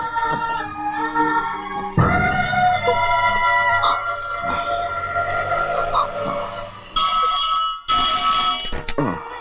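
A telephone rings with a repeating electronic tone, fairly loud and close, over a busy background of music and other sounds.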